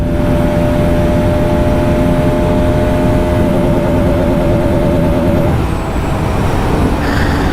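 A Bajaj Pulsar RS200 motorcycle, 2025 model, runs flat out in sixth gear at its rev limiter near 145 km/h top speed, a loud, steady engine drone with heavy wind roar, its pitch holding flat and stuttering slightly.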